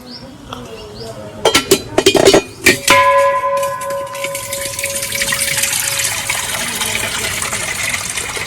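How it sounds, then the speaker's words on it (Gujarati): Water pours into a container at a temple: a few metallic clinks and knocks come first, then a strong, steady gushing stream runs on to the end. "તો જો આ પાણી ભરી લઈએ."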